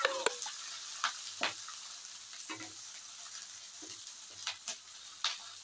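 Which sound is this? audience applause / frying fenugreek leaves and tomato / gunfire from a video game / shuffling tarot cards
frying fenugreek leaves and tomato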